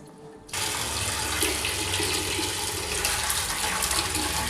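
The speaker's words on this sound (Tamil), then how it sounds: "மீனை 4 தடவை கழுவி எடுத்துக்கணும் தண்ணியில் போட்டு." Running water pours steadily into a basin as anchovies are washed for a Nagercoil-style fish curry, a continuous close splashing gush that starts abruptly and carries on without talk.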